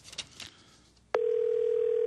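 A steady telephone tone on a call to the Homeland Security hotline starts abruptly after a brief stretch of talk, then holds loud and unbroken to the end.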